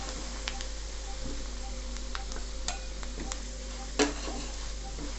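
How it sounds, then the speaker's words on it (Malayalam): Spices, curry leaves and prawns being stirred in a pan for a prawn tomato curry, giving soft continuous sizzling with a few light scrapes and one sharper clink, fairly quiet and steady. "നല്ലതുപോലെ ഇളക്കി കൊടുക്കണം."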